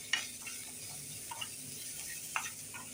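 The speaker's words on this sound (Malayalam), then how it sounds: "കറിവേപ്പില ഇട്ട് കൊടുക്കുക കേട്ടോ." Curry leaves drop into hot oil in a pan and sizzle with a steady, faint crackle, broken by a few light clinks and stirring taps; no one speaks.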